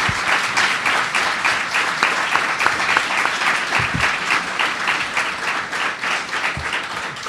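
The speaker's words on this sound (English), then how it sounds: "let's give a formal round of applause to the panelists" Steady audience applause for the panelists at a lawyers' panel event, a continuous dense clatter of hands at even volume with a couple of low thumps, lasting several seconds.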